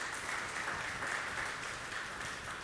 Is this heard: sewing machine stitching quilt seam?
no